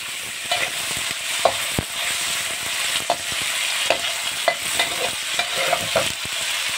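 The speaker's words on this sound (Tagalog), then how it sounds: "Medyo piniprito ko lang ng konti itong ano, tungkan." Tungkan fries in a pan while a utensil stirs it, giving a continuous close sizzle broken by regular scraping and clacking strokes, with no talking.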